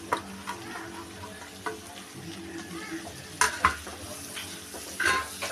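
Onions stirred and frying in a pan for paneer butter masala give a steady close sizzle, with a few sharp clinks of a utensil against the pan, no voices.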